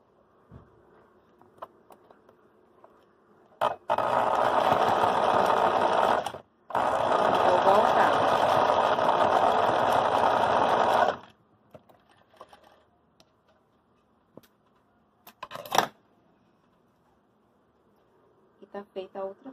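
A sewing machine stitches the bottom of a fabric tote bag in two long, close, rapid whirring runs separated by a brief pause, followed by scattered light clicks and handling sounds in a quiet room.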